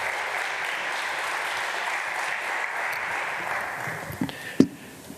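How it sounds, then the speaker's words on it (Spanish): An audience claps steadily to welcome a speaker onto a stage. The applause is sustained and even for several seconds, then thins out into a few scattered claps and thumps near the end. "Lo recibimos con un aplauso."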